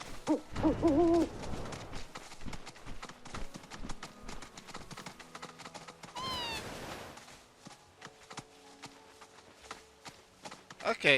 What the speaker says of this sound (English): Is that a fucking owl?